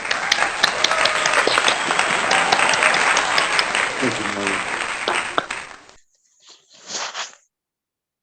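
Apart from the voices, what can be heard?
online audience applause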